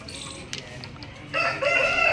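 An Aseel rooster of Madrasi breed crows close by, a loud drawn-out call rising in the second half after a few quieter clucks.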